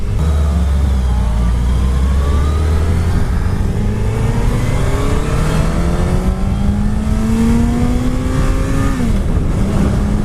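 A 2019 Suzuki Hayabusa sport motorcycle under hard acceleration on the road, its engine note climbing steadily through the gears with a brief dip at each shift, loud and continuous over rushing wind noise.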